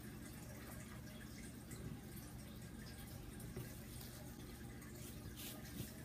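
Running water rinses a plastic shipping bag holding African cichlids over a sink, a steady splashing wash that continues unbroken throughout.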